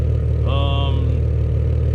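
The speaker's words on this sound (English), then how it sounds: "it sounds like it got louder when I closed the valve" A warmed-up Infiniti G37 exhaust with its valve closed gives a steady low idle drone, with a brief mid-pitched tonal whine rising over it partway through.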